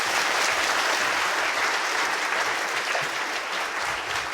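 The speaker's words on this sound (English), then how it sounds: "Big round of applause for Dora." Big round of applause from the Royal Institution Christmas Lectures audience for a volunteer, loud, dense, sustained clapping throughout.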